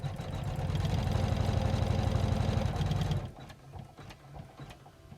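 A Janome 500e sewing machine stitching fabric with a fast, loud, even mechanical whir for about three seconds, then stopping, leaving faint handling clicks.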